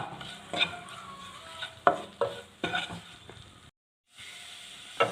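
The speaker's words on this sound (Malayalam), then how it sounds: "ഇനി നല്ലതുപോലെ ഒന്ന് ഇളക്കാം മല്ലിപ്പൊടിയുടെയും മഞ്ഞൾപ്പൊടിയുടെയും മുളക് പൊടിയുടെയും പച്ചമണമൊക്കെ മാറുന്ന വരെ ഇതൊന്ന് മൂപ്പിച്ചെടുക്കണം" Coriander, turmeric and chili powder fry in a pan as a spoon stirs, giving a soft sizzle broken by several scraping clinks of the utensil against the pan, close and moderately loud.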